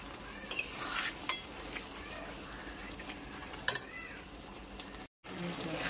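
Mutton cooking with tomato puree in a pan, stirred with soft scraping and a few light utensil clinks over a faint simmering sizzle, quiet and close.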